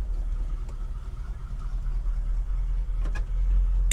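A 1967 Chevrolet Chevelle convertible SS clone driving, a steady low engine rumble heard from inside the car with a couple of light rattles, constant and moderately loud, no talking.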